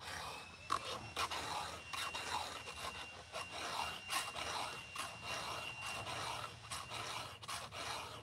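A hand file rasps in quick, rhythmic strokes along a chainsaw chain, close and steady for several seconds, with no talking over it.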